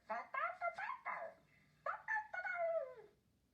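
A woman voicing a blue cartoon puppy imitates whimpers and soft whines, a string of short rising and falling canine-like cries with brief gaps, close and alone.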